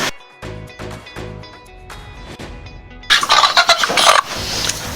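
Chickens on a small allotment, with a series of short clucks and calls at close range, growing into a louder, busier burst of bird noise toward the end.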